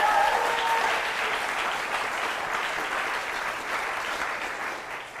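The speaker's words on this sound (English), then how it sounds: "Let's have a huge round of applause for the one," Enthusiastic audience applause welcoming a guest onto a stage interview, dense continuous clapping loudest at the start and tapering gradually, heard alone without talk.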